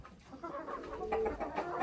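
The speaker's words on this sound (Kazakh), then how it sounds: "Осы міне біздің тауықтарымыз." Adler chickens cluck in a few short, close bursts from a small flock on a poultry farm, fairly quiet and with no talking.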